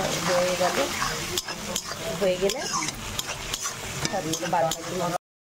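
Garlic frying in oil in a pan while being stirred, with scraping and clinking of a utensil against the pan over a steady sizzle, under someone speaking briefly.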